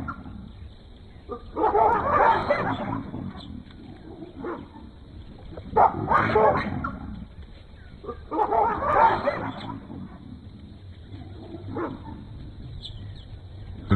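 A dog barks in repeated bursts at a troop of baboons in the wild, the yaps and bow-wows rising and falling over several seconds with quieter gaps between outbursts.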